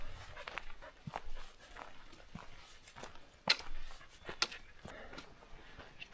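A dog moves about outdoors on a mountain trail in the Tushar Mountains, Utah, in light drizzle, with scattered footfalls and soft rustling, a couple of sharp brief yelps or tags jingling standing out over light background noise.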